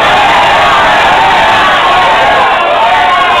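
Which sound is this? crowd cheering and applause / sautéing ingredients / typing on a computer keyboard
crowd cheering and applause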